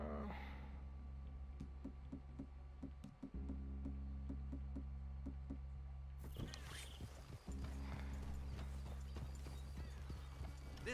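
Horse hooves clip-clop steadily in Red Dead Redemption 2, a western video game, with a continuous rhythmic beat under loud game ambience and a sharp burst of noise partway through, plus an occasional whinny.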